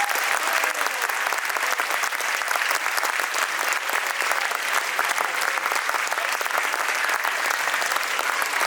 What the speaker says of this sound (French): vous pouvez faire un tonnerre d'applaudissements